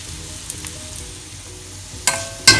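Ingredients including ragi and green gram with turmeric sizzle steadily in a hot pan, a low continuous hiss with a few sharp louder bursts near the end, as if stirred.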